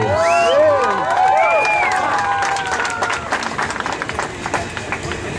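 Crowd at a boxing weigh-in for WBC Mexican champion Mariana "Barbie" Juárez, with whistles and cheers giving way to scattered, moderately loud clapping, with voices mixed in.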